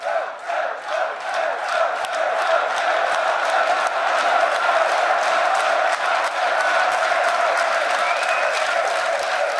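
A large crowd at the 2015 League of Legends World Championship esports event applauds steadily throughout, dense clapping with some cheering mixed in, loud and sustained with no pauses.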